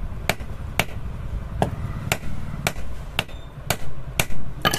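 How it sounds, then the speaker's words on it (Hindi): Sharp hammer blows strike the hub of an air cooler fan blade to tighten its fit on the shaft, about nine loud, evenly spaced knocks over a low background rumble with no talking. "तो चलिए मैं इसको ठोक लेता हूँ और ये शाफ्ट भी ठोक करके आपको दिखाता हूँ।"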